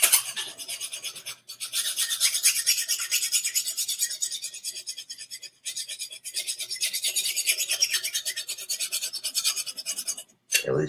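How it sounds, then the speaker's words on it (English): A blade is drawn repeatedly through a steak knife sharpener, making quick rhythmic rasping strokes in close bursts with a few short pauses between runs. "At least this one can be sharpened with the steak knife sharpener."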